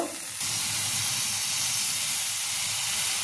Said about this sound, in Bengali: টুকরো যে পিসগুলো রয়েছে সেদ্ধ করা এঁচোড়, এইটাকে আমি দিয়ে একটু কষিয়ে নেবো